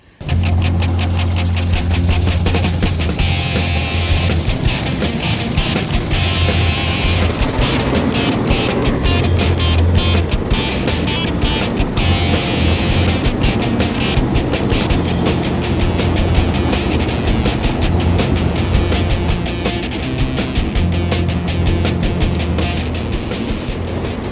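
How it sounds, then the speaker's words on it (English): An automatic car wash runs over a 2018 Nissan Titan pickup fitted with a Peragon truck bed cover, giving a loud, steady roar of spraying water and machinery that continues without a break. "I'm going to take this thing through a car wash and show you that how well that performs"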